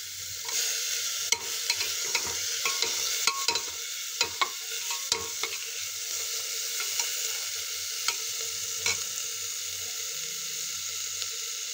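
Chopped tomato sautéing in a pan for khichdi gives a steady close sizzle, broken by repeated scrapes and taps of a stirring spoon, with no talking.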